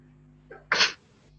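A single sharp sneeze, preceded by a short catch of breath, bursts out close by over a faint steady hum.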